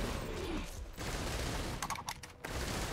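A lingering grenade effect in the video game Risk of Rain 2 rattles and crackles in a dense burst of rapid pops, close and fairly loud, with short choppy bursts near the end.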